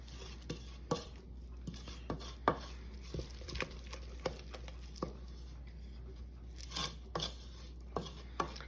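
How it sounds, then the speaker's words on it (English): A spoon works through thick no-bake cookie mixture in a hot pan, giving irregular near scrapes and soft sticky taps against the metal over a steady low hum, with no talking. "Stir it in."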